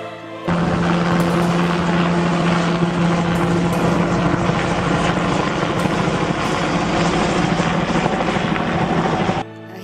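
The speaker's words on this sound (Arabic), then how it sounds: "هي واحدة أخرى، إنها تسمى طائرة هليكوبتر" A toy helicopter runs with a loud, continuous motor whine and rotor buzz. It starts abruptly, holds steady for about nine seconds, then cuts off.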